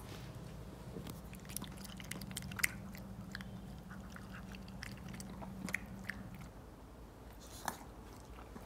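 A pet chews its food close up, with irregular soft crunches and bites spread over several seconds against a low background hum.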